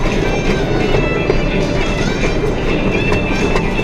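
Steady rumbling ride on the Rio Grande train at Paultons Park, with rolling wheel noise and faint clacking, a continuous loud mechanical drone throughout.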